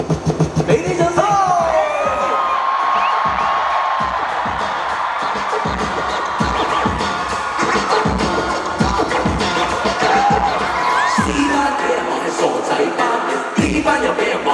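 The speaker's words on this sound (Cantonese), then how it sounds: "俾啲掌聲！" A packed arena concert crowd at Hong Kong Coliseum cheers loudly and continuously, with whoops, shouts and whistles rising throughout, plus scattered clapping and voices in the mix.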